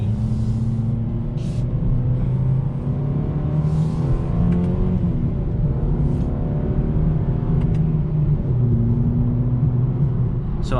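A 2021 Mercedes-Benz A35 AMG engine in Sport Plus mode drones loudly and steadily from inside the car, its pitch rising and dipping through gear changes as it accelerates, with no voices.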